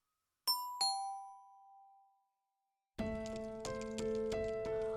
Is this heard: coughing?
no